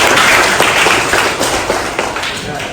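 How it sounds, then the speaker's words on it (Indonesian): Short burst of applause in an Indonesian classroom lesson, students clapping together loudly, fading slightly toward the end. "Beri tepuk tangan untuk."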